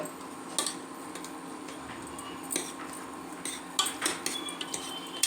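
Masala paste being stirred in a cooking pot for green soya rice, heard as intermittent scraping and metallic clinks of a spoon against the pot, with no talk.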